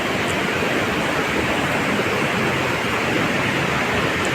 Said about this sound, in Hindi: तेज साउंड है इसका, रिवर का। River sound is so crazy.